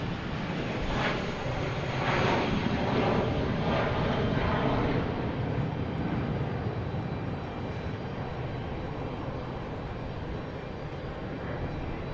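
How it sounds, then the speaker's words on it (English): A JetBlue Airbus A320 jet at Boston Logan Airport gives off a steady, broad engine roar, loud and sustained throughout, with faint talk beneath it. "We got JetBlue here heading to Atlanta in A320,"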